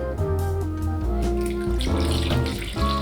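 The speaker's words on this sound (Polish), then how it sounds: "Zalewam wodą." Water runs steadily from a tap into a pot holding washed meat and soup vegetables (carrot, parsley root, leek, celery), a continuous close splashing fill with no talk.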